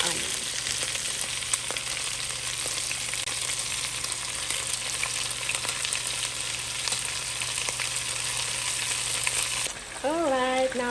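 Lamb meat for Senegalese mechoui frying in a pan with marinade and onion added, a loud, continuous close sizzle with steady crackle throughout, cutting out near the end as a voice briefly speaks.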